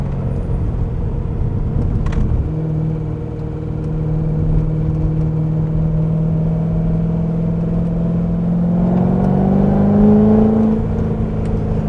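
A Corvette C6 Z06 accelerates hard out of a corner on a drive test, its engine note droning steadily from inside the car and rising in pitch near the end.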